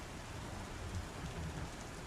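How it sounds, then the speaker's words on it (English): Rain-like alarm sound effect in a video game, turned down to a soft, continuous broadband hiss resembling steady rainfall, even and unbroken throughout with no talk. "Now it's just like rain ASMR."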